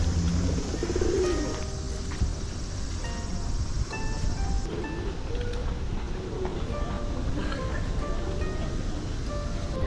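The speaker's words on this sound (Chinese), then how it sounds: "难怪路上 超级多鸽子的。" Pigeons cooing along a street near Yohashira Shrine in Matsumoto, soft repeated coos mixed into the bustle of the outdoor street, with people talking nearby.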